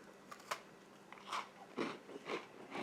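Close, crisp bites into a crunchy MRE sugar cookie, with several sharp crunches spaced about half a second apart and chewing in between, quiet and alone.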